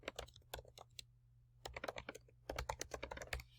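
Rapid, uneven typing on a computer keyboard while entering a footnote, with close, crisp key clicks in bursts separated by a short pause, over a faint steady low hum.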